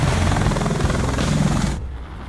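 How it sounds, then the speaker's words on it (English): A helicopter in flight, a loud close rotor thrum with rapid chopping pulses and engine roar, steady before dropping off sharply near the end. "Helicopters are built for precision, but even the pros can make mistakes."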